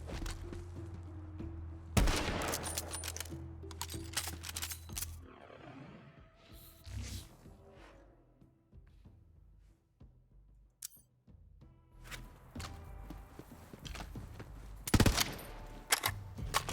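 Borderlands 3 sniper rifle shots ring out as a few loud, sharp blasts separated by quieter stretches of clicks, thuds and ambient game sound, with no talking.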